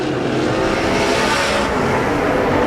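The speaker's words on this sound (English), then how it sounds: "Tommy Malcolm already entering turns 3 and 4 as he works his way off of turn number 4" USAC/CRA sprint cars race around the Arizona Speedway oval in a loud, continuous engine roar that stays steady and close through the whole stretch, with no talk over it.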